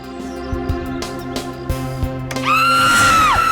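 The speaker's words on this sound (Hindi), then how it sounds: "कैसे चीखा" A woman screams in pain in a Hindi crime drama scene, a loud, sustained cry rising over clattering background sounds and bangs, lasting about a second near the end.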